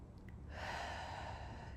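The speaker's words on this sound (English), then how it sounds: "And exhale all the air out." A slow, audible exhale during a Pilates breathing exercise, one long soft breath of air pushed out steadily, close and quiet with no talking.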